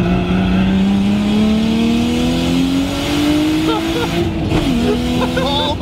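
A Nissan R32 Skyline engine fitted with a turbo screamer pipe revs hard and climbs steadily in pitch for several seconds, loud and close, with a rasping wastegate scream and a brief dip near the end, continuous throughout.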